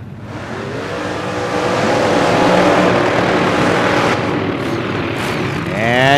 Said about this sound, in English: And that's George's burnout